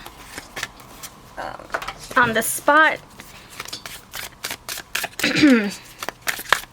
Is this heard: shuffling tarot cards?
yes